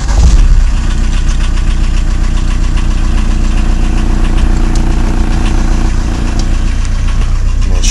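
A 1980 VW truck engine idles steadily and loudly up close after a cold start, a rough, constant rumble with a faint rhythmic knock throughout.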